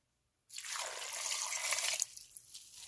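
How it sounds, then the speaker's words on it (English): Water pours steadily into a cooking pot of sliced vegetables for about a second and a half, then tapers off into a few faint drips and trickles. "Then add 2 cups of water."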